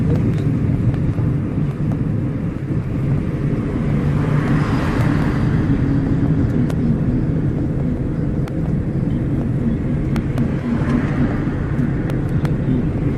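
An automatic car driving forward, a steady low engine and road rumble with wind noise, continuous and close from inside the cabin.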